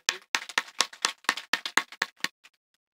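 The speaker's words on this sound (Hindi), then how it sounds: "एक बार मैं चाहता हूं कि आप लोग उसके लिए तालियां बजाइए" Clapping at a Hindi poetry gathering (kavi sammelan) after a young girl's recitation: about a dozen sharp, distinct claps in a quick uneven rhythm, close and clear in a quiet room, tapering off and stopping after two and a half seconds.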